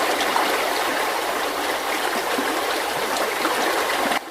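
Flood water rushes in Tanghe, China, as a dense, unbroken hiss and roar, loud and close for about four seconds before dropping off abruptly at the end.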